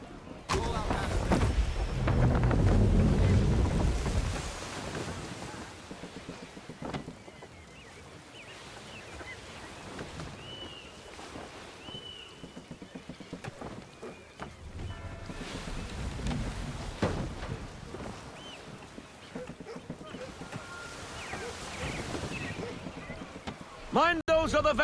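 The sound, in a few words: sailing ship moving through shallow water, from video game Assassin's Creed III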